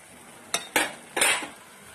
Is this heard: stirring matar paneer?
yes